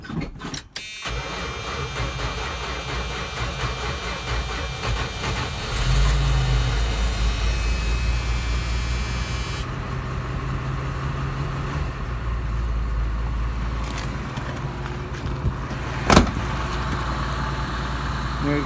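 1983 Dodge D150 pickup truck started cold on a 29-degree morning: a brief starter crank, then the engine catches and settles into a steady, rumbling idle with a short revving change partway through, close by.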